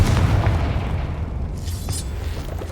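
In the Hogwarts Legacy video game, a Confringo fire-blast spell explodes with a loud, deep boom that rolls into a sustained rumbling roar and slowly fades, with no voices.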